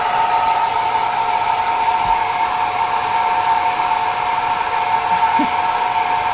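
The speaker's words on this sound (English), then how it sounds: "we'll just give it a little bit of a hit with this dryer" A loud, steady hair-dryer-style blower drying thick paint close by without pause, an even droning hum with airy hiss and no speech.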